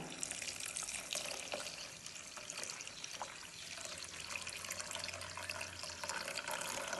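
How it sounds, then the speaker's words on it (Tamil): Coconut milk poured into a pot of Sri Lankan sodhi curry, a steady liquid pour and splash running unbroken throughout, close and fairly soft, with no talking. "எடுத்து வச்சா தேங்காய் பாலை ஊற்றிடுவோம்"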